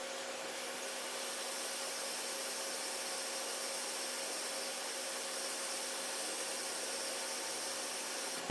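A hot air rework station blows steadily at raised airflow while reflowing solder on a flux-coated board, a continuous even hiss with a faint fixed whine, close and alone throughout.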